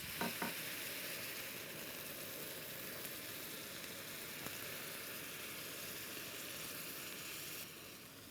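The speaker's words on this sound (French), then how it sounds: "Et là, je vais déglacer avec un peu de bière brune." Dark beer poured onto hot caramel in a pan sizzles and hisses steadily with a loud, continuous frying sound, close up, while it is stirred; no speech.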